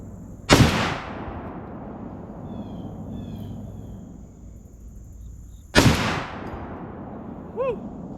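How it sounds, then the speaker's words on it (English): Two loud gunshots at an outdoor shooting range, each a sharp crack followed by a rolling echo, spaced about five seconds apart, with a faint vocal exclamation near the end. "hope you guys are ready because I am firing."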